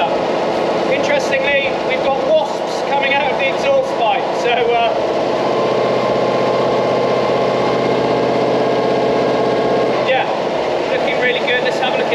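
A Panhard AML60 armoured car's heavy engine idles steadily and loudly at close range, a constant rumble with some clatter on top throughout.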